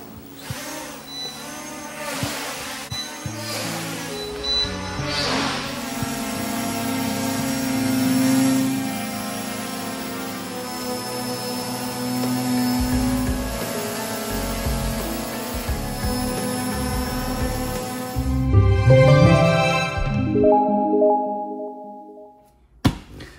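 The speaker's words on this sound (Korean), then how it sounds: "4만원대 브러쉬리스 모터가 탑재된 YK8 토이 드론을 리뷰하려고 합니다" A YK8 toy drone's brushless motors whir in a steady, tonal drone that shifts pitch as it flies nearby, then ramps up sharply and cuts off near the end with a final thunk.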